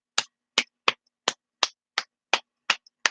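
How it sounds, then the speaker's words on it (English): One person clapping alone in a slow, sarcastic round of applause: eight sharp, evenly spaced claps close up, with silence in between. "Here's the whole round of applause, motherfucker."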